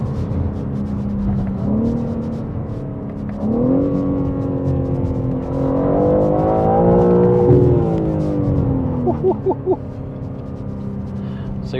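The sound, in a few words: BMW M3 xDrive accelerating hard on twisty country lanes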